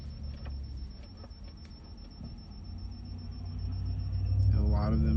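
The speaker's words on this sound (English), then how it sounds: "And a lot of them are loud cars, like that one." A loud car drives by at night, its engine rumble swelling steadily as it nears, over a constant high electronic whine and faint background noise.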